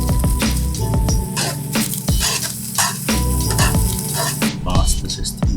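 Pasta sizzles and is stirred in a hot pan of saffron gorgonzola cream sauce, a continuous close frying hiss broken by repeated scraping stirs and utensil clatter.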